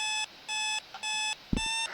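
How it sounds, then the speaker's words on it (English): Alarm clock ringing in the video game Sally Face: four loud, bright electronic beeping bursts in a steady on-off rhythm, with a brief thump between the last two. "that alarm is just annoying as hell"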